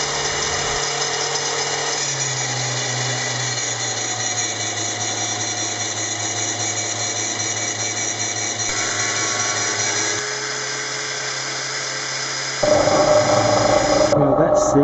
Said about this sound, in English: I had better success with the cutting wheel, making some thin slots in it, and then finishing off with the grinder